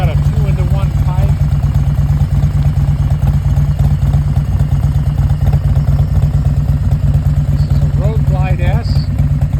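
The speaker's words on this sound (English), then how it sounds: "You can listen to this motorcycle. It's got a 2-in-1 pipe." A 2018 Harley-Davidson Road Glide S with a 2-in-1 exhaust pipe idles steadily up close, its low throbbing rumble continuous throughout while a person talks over parts of it.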